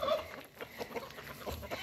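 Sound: chickens and rooster clucking

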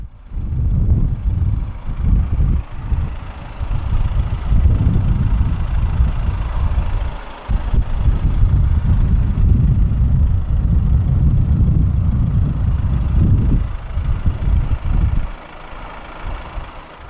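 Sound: Audi A3 Cabriolet 2.0 TDI diesel engine idling

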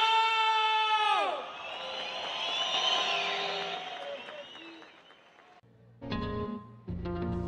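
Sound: concert crowd cheering and applause

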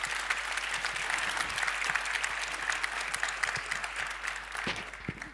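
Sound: audience applause for Lyndon and Rosanna

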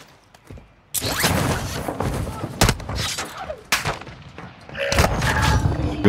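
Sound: sniper rifle shot in the video game Call of Duty DMZ

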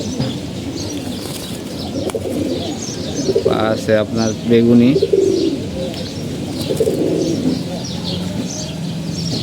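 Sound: pigeons cooing

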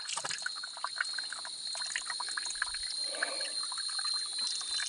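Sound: small trickle of water falling

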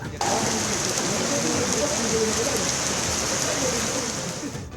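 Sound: heavy rain on Boracay island

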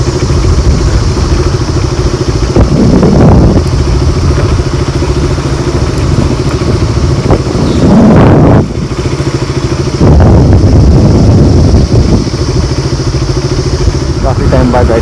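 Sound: KTM Duke 200 motorcycle riding

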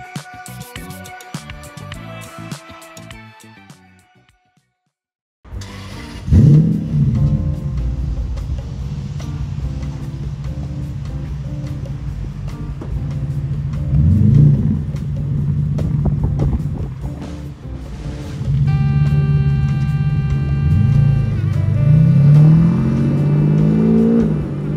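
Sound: Toyota Century V12 engine revving, straight piped exhaust

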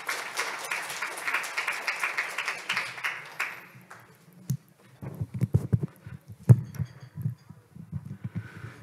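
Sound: audience applause at a presentation

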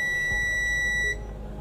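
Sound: multimeter continuity beep on shorted phone motherboard

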